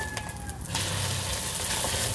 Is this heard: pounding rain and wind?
no